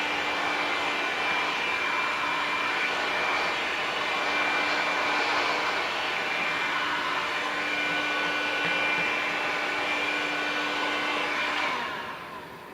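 Steady airy blast of a heat gun sweeping across side window tint film to shrink it, a continuous loud whooshing hum that holds for about twelve seconds before tapering off.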